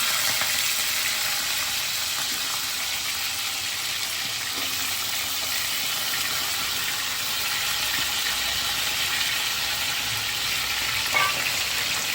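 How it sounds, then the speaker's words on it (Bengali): Pointed gourd and papaya pieces fry steadily in hot oil in a home kitchen pan, a continuous loud broadband sizzle with faint crackles and the occasional stir, with no talking. "এই তেলেতে কি করব, পটলটা আর পেঁপেটা ভেজে নেব।"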